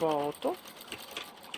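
A sewing machine stitches a diaper bag with a portable changing pad, producing faint, quiet mechanical whirring after a short spoken word.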